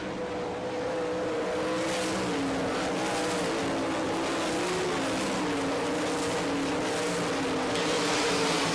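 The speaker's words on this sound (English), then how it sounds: "Keep your eye on the 2K car of Kevin Fry as he's showing some speed down the backstretch" Sprint race cars roar around a dirt speedway at Barberville, Florida during an All Star Circuit of Champions Speedweek race, a loud continuous engine drone with shifting pitch as cars pass, no voices.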